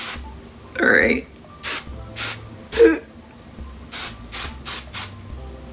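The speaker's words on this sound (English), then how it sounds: "I always put in too much hairspray or not enough." Hairspray hisses onto hair styled into heatless headband waves in a series of about eight short, sharp bursts, close and loud, with a couple of breathy vocal noises between the early sprays.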